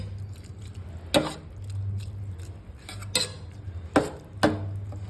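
Sweet rice porridge stirred in a pot as street food, with several sharp scraping clinks of a utensil against the pot spaced apart over a low steady hum.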